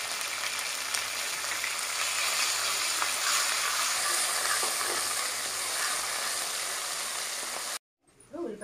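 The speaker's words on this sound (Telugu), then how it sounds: "ఆయిల్ బాగా వేడైన తర్వాత అల్లం వెల్లుల్లి పేస్ట్ వేసుకోవాలి." Ginger garlic paste sizzles and fries steadily in hot oil in a pan while a fish curry is being cooked, a continuous crackling hiss that runs unbroken for several seconds and then cuts off abruptly near the end.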